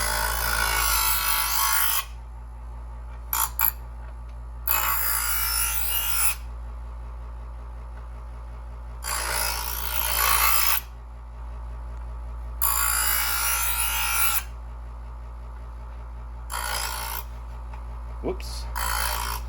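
A Presto 08810 professional electric knife sharpener runs with a constant low motor hum while a knife is drawn through its wheels five times. Each pass makes a harsh, hissing grind lasting about two seconds.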